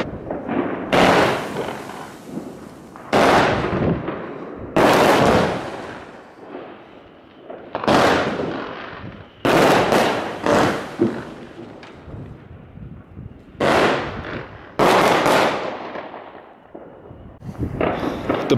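A 36-shot, 500-gram fireworks cake set off outdoors on New Year's Eve in Delft fires loud, close bursts in irregular clusters, each sharp crack trailing into crackle and decay, with short gaps between volleys.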